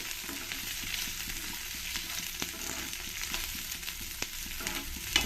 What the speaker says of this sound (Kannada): ಇದನ್ನೆಲ್ಲ ಒಂದು ಸ್ವಲ್ಪ ಫ್ರೈ ಮಾಡ್ಕೊಳ್ತೀನಿ